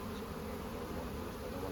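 Honey bees swarm and buzz around an opened hive during a hive split, a dense, steady drone filling the whole stretch with no pauses, close and moderately loud.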